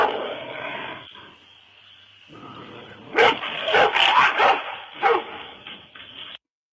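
A dog barks in a run of loud, close, rough barks after a quieter stretch of indistinct noise.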